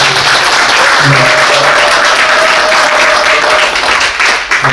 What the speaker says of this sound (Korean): 그 모든 분들한테 잘했다고 고맙습니다 하고 박수를 한번 주십시오